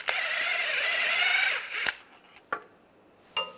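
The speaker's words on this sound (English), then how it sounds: "Now I'm going to take a 13 millimeter socket and take these two bolts out." A power tool with a 13 mm socket spins out bolts on a 2007-2013 Chevrolet Silverado during starter replacement, a loud steady whine for nearly two seconds, then stops, followed by a few sharp clicks and knocks.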